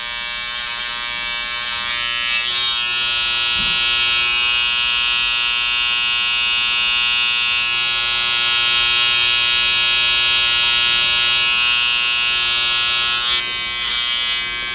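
Electric hair clippers fitted with a size one comb drone steadily while fading a men's taper haircut, a loud close continuous buzz with slight shifts in tone as the blade moves through hair.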